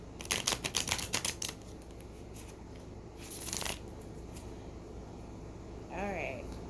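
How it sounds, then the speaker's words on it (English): A tarot card deck is shuffled close by in quick, papery riffling bursts, a rapid flurry at first and then a shorter one, quiet overall, with a brief voice sound near the end. "My deck's never been shuffled so much in my life"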